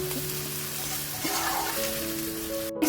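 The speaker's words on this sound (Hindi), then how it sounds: "हम इसको थोड़ा सा भून लेंगे प्याज के साथ" Onions frying with nigella seeds in a pan for bhindi pyaz, a steady crackling sizzle throughout, close and even, with faint tonal hum in the background.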